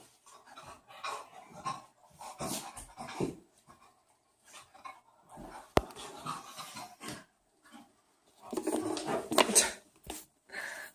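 An excited dog pants heavily indoors in quick, ragged bursts of breath, close and fairly soft, with brief pauses and a sharp click partway through.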